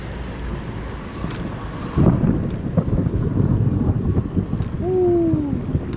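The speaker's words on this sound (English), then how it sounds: "That was some thunder right there." Thunder booms and rumbles through a storm over a canal spillway in Cape Coral, Florida, a loud broad crack followed by rolling low rumble amid steady wind buffeting the microphone.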